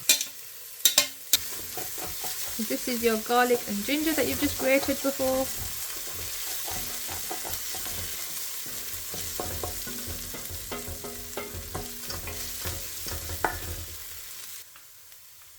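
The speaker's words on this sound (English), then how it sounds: "that one little piece of onion is sizzling now, which means the oil is hot" Onion and spices sizzling and crackling in hot oil for coconut daal, with stirring scrapes and clatter, while a person speaks briefly over the frying.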